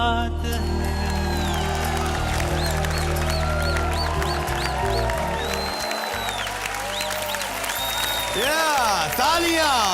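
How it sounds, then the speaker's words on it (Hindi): A television studio audience claps for three little children who have just danced, with dense, sustained applause running under loud music with swooping tones and voices throughout. "Yeah, तालियां for those 3 beautiful little बच्चास."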